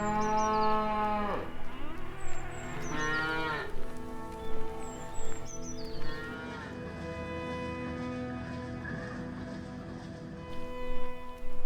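Cattle on Irish dairy farm fields moo repeatedly in long, drawn-out calls, several overlapping, close and clear against a steady background hum.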